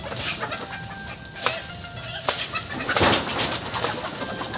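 Chickens in a tree being pushed down with a bamboo pole give brief clucks and flapping bursts over steady birdsong and outdoor hiss, with no one talking.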